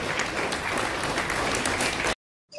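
Loud, dense applause from an audience at the Dynamik Excellence Awards 2025 ceremony fills the hall steadily for about two seconds, then cuts to silence before a faint sound returns at the end.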